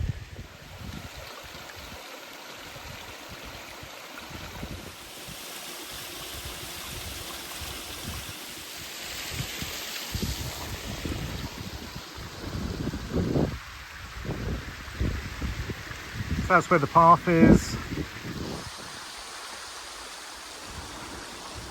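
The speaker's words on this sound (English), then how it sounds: "This is the top waterfall on Crooked Clough." Steady rushing water from the top waterfall on Crooked Clough brook, mixed with wind buffeting the microphone, and someone briefly speaking partway through.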